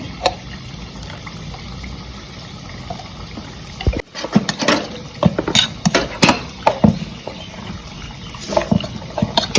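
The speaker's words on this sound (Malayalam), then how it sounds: "2 സ്പൂൺ നെയ്യും കൂടി ഒഴിക്കുന്നുണ്ട്." Ghee and a little water poured into unniyappam batter with cardamom powder, a quiet trickle at first, then louder splashing pours and clinks close by, with no talking.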